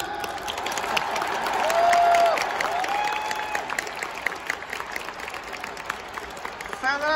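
A large baseball crowd at Es Con Field Hokkaido cheers and applauds steadily after a walk-off win, the roar swelling loud and then holding under a voice speaking over the stadium sound.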